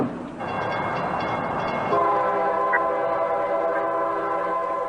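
A train rolls past with a loud, sustained horn blaring over steady rumbling and clanking, close by, with no talk.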